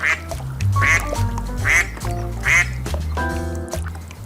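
Duck quacking, four loud close quacks in a steady rhythm, alone without talk.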